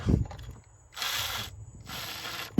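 A Milwaukee power tool works on bolts during a Lexus IS300 manual transmission swap, giving two close, rapid ratcheting bursts separated by a short pause.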